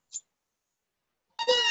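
Young children in a preschool class imitate a cat's meow during an animal sing-along: a short high squeak near the start, then a long, loud voiced meow-like cry filling the end.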